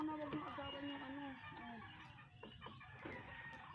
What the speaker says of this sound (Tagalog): Tandang din yan eh.